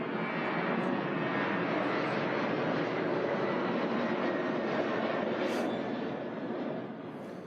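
A loud, steady roar of a jet aircraft passing low overhead at an outdoor groundbreaking ceremony, filling the air with broad engine noise that slowly begins to fade at the end.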